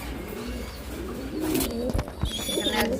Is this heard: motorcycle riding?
no